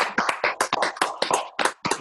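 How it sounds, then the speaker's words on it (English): A small group in a podcast studio gives a short round of applause at the end of a first episode, a quick run of distinct, close claps with brief gaps between them. "I just want to go ahead and give a round of applause one time"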